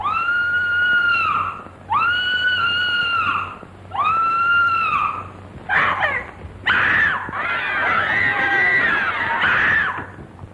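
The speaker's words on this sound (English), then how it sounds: "what are you screaming about?" A woman screams loudly in several long, sustained shrieks with brief pauses between them, followed by a more ragged, wavering scream.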